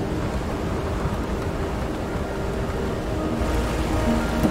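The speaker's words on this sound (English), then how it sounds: "Rain won't quit, will it, young blood?" Steady rain pours in the video game Road 96, a dense, continuous hiss with a low rumble underneath and no voices.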